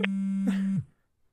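A phone call ringing out unanswered gives a steady electronic tone that holds for most of a second, then cuts off and leaves near silence.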